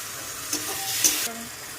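Tomato sauce mixture with turmeric and chili sizzles and frys in a pan while being stirred, a steady close hiss with soft scraping touches.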